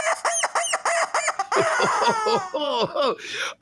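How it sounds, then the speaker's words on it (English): A squeezed rubber chicken toy squawks in a rapid series of loud, strained honks and wheezing squeals, ending with a drawn-out screech. "And the rubber chicken says,"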